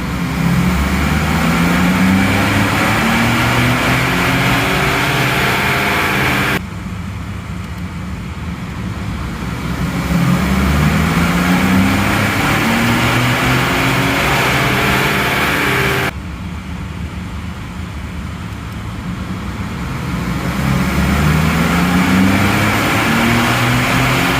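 A 2011-2014 Ford EcoBoost engine fitted with modified intake silencers is floored from a 1500 RPM hold, giving a loud, sustained roar. The pitch climbs steadily through three long pulls, each broken by a brief drop as the throttle lifts.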